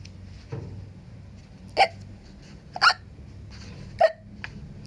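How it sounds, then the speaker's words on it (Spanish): Three sharp hiccups break a quiet background, spaced about a second apart, each a short, clear gulp heard close up and alone. "El hipo es un sonido que hacemos cuando se forma una burbuja de aire en el diafragma."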